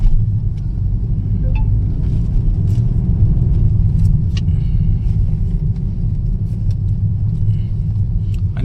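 Heavy trucks and traffic rumbling along a mountain ghat road, a loud continuous low engine drone with passing vehicles throughout.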